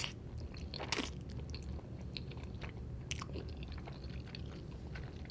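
Close, quiet chewing and biting on Cajun fettuccine and onion rings, with a sharp crunch near the start, another later, and soft wet mastication between them.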